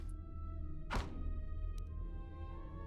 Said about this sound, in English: So I'm gonna break open these boxes.